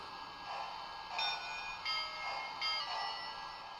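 Electronic bell from a Lionel battery-powered O gauge toy train set, ringing in a steady repeated clanging pattern, quiet and close, with no voices.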